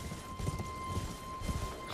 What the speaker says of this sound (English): It will summon a spectral steed named Torrent.